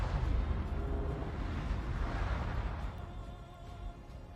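Secondary guns on a warship in World of Warships fire in a dense, continuous barrage of rumbling booms, loud and sustained, easing slightly toward the end, with no talk.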